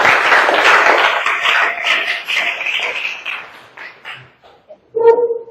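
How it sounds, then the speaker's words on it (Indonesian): A classroom of students claps hands together in a dense burst that thins out and fades after a few seconds, followed by scattered faint taps and a short louder knock at the end. "Tepuk tangan buat."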